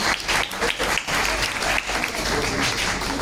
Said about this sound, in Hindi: जोरदार ताली, जोरदार।